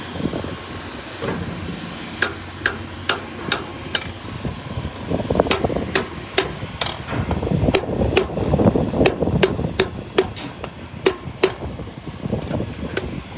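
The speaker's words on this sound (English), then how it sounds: "You can choke the hammer a bit more." Sharp metallic hammer strikes on a Komatsu 930E haul truck during tray change work ring out one after another at an uneven pace, each with a bright clang, over a rumbling, clattering background.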